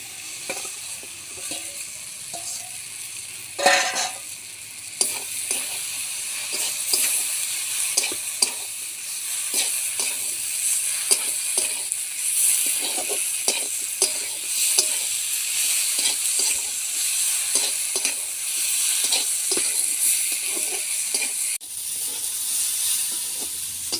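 Steady, loud sizzling of soybean chunks and potatoes frying in a pan, with frequent scraping and clacking as they are stirred, no voices.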